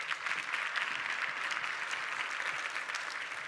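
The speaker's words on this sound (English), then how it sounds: "Let's give them a round of applause." A room of attendees at a talent and inclusion summit panel gives a round of applause, dense steady clapping at moderate distance that holds evenly throughout.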